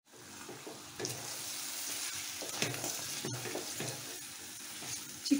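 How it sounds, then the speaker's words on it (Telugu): Chicken pieces fry and get stirred in a pan for a chicken curry, giving a steady close sizzle with scraping strokes and occasional sharper clinks, continuous throughout with no talk. "చికెన్ వాటర్ బయటకు వచ్చే వరకు వేయించుకోవాలి."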